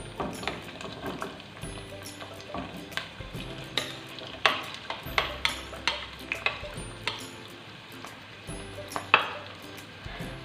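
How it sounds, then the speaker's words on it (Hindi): Onions fry in oil in a pan, giving a soft continuous sizzle broken by repeated scraping and clinking as a spoon stirs them, with irregular sharp knocks against the pan. "प्याज फ्राई होना शुरू हो गया, इसका कलर चेंज हो रहा है।"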